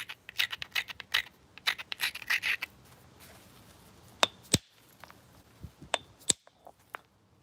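A quartzite edge is back ground during flint knapping, with a quick run of close, gritty scraping strokes followed by sparse, sharp stone taps and clicks.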